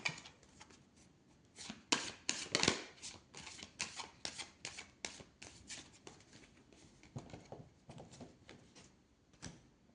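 Tarot cards being shuffled and cut by hand, a close, quiet flurry of rapid riffling snaps and slaps in uneven bursts, with no talking over them.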